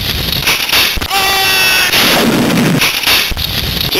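Explosions in the Cannon Fodder video game on Game Boy Color, loud, dense chiptune bursts and crackling blasts filling the whole stretch with only brief gaps.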